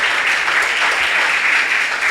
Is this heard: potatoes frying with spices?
no